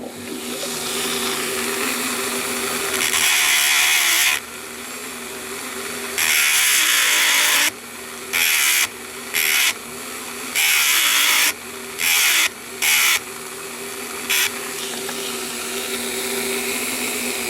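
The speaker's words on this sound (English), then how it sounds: "we just got to grind this off" A small rotary grinder removes a rivet on the count wheel movement of a Korean 8-day clock. It whines steadily, then cuts off and restarts in a series of short, loud bursts with brief gaps in between.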